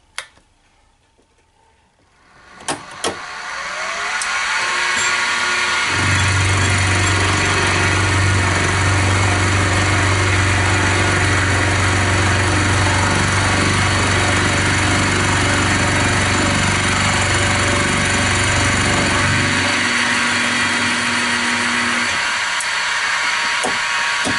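Chinese 16mm 2-flute indexable end mill cutting a 3/4-inch-thick cast iron block on a milling machine: after brief clicks the spindle spins up into a steady loud whine and grinding hum that holds for about twenty seconds, then eases.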